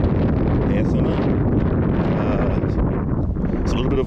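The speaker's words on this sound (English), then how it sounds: "It's a little windy today." Steady outdoor wind buffets the microphone, a dense low rumble with no break for the whole stretch, loud and close, with no clear voice over it.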